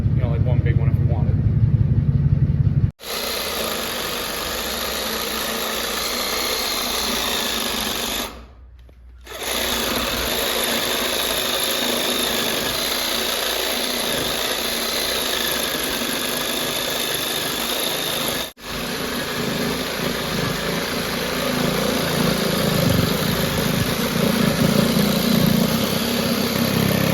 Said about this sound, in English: So it's just a regular reciprocating saw, but found some good bone blades online.